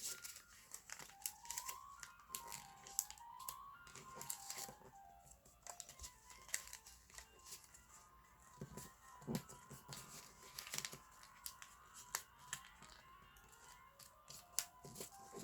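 Paper being folded and creased by hand for a paper spinning top, with soft crinkling, rustling and tapping close to the mic and quiet throughout, no talk.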